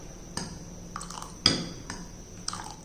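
A spoon stirring batter in a bowl, with about six light clinks and scrapes against the bowl at an uneven pace, close and fairly quiet.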